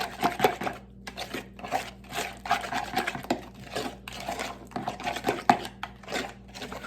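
A spoon mixes chicken salad in a bowl with steady, rhythmic scraping and soft clacks against the bowl, roughly two strokes a second, close and clear with no talk.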